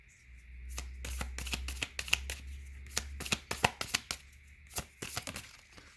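Oracle cards shuffled by hand up close, a quick run of crisp riffling slaps and soft papery flicks in uneven bursts, with no one speaking.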